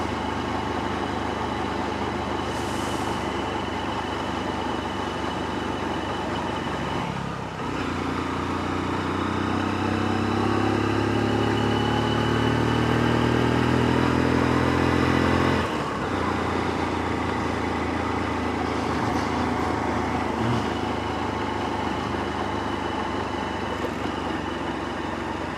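An aging vehicle's engine on a rainy ride drones steadily and close by, its note climbing slowly and straining as it struggles to gather speed, with no voices over it.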